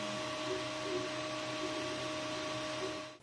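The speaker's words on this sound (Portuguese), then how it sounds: "o barulho principal da impressora acaba sendo os coolers, porque eles mantêm um barulho constante" Cooling fans on an Elegoo Neptune 3D printer give off a constant, even whirring hum with a steady tonal whine, close and unchanging until it drops off at the very end.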